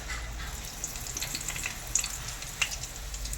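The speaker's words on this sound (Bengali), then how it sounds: "এবারে আমি সর্ষের তেল দেব। গোটা জিরে ফোড়নে দিচ্ছি আমি" Whole cumin seeds sizzling in hot mustard oil in a pan give a soft, steady hiss, with a few small crackling pops scattered through it.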